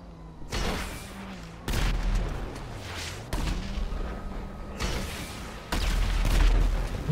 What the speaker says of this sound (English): Since I know how much you love getting killed with an RPG.